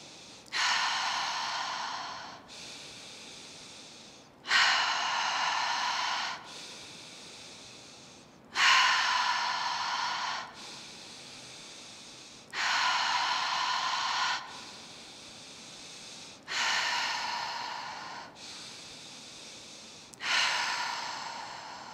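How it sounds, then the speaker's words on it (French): Slow guided breathing during a relaxation session, with loud airy breaths in through the nose and out through the mouth alternating in a steady rhythm, each breath lasting around two seconds, close and alone with no talk. "Pour le prochain, on va venir inspirer par le nez."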